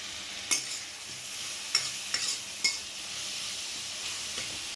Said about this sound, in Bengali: পেঁয়াজটাকে ভালোভাবে একটু নাড়িয়ে চাড়িয়ে নেব আর তার মধ্যে দিয়ে দেবো হলুদ